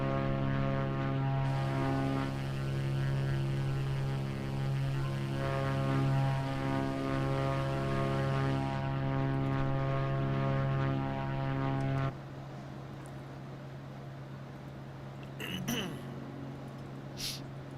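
A Cessna 172 single-engine propeller plane climbing toward 13,000 feet, its steady loud engine drone filling the cabin before dropping to a lower, quieter hum with a few brief clicks.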